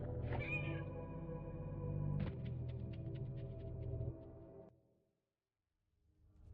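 A misshapen cat in the video game Fragile Reflection gives a drawn-out, strained meow over a droning musical backdrop, then a second call with sharp clicks before the sound fades into near silence.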